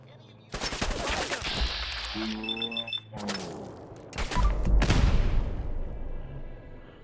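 Bursts of rapid video-game gunfire from a Silver Shroud mission ring out loud and close in several volleys, with a voice and electronic beeps mixed in between the shots.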